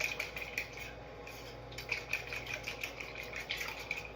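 A fork clinks and scrapes rhythmically against a bowl while stirring liquid for sourdough focaccia, quick faint metallic taps repeating at a steady mixing pace.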